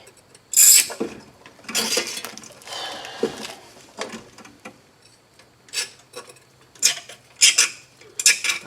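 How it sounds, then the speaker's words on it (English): Metal point scribing a mark along the rusty edge of a strut on a 1998 Subaru Outback, heard as several short scratchy rasps in uneven bursts, close and fairly loud, with no talk. "I'm just scribing the edge of the strut"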